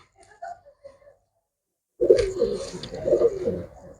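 Pigeons coo in a steady, throaty murmur after a couple of soft early calls, the birds close by and fairly loud with no talk over them; these are white-eyed pigeons offered for sale.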